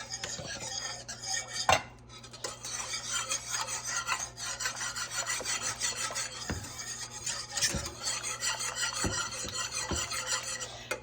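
A whisk stirring sage gravy in a pan, making continuous scraping and rasping metal-on-pan strokes with a few sharper clinks, close up with no talk.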